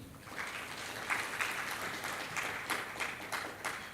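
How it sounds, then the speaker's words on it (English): Audience applause following a speech at a climate and environmental resilience conference, steady clapping from a large room that swells slightly midway, moderately faint and without talk. "warm round of applause again"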